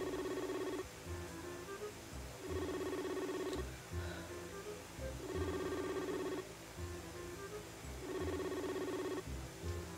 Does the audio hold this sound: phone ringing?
yes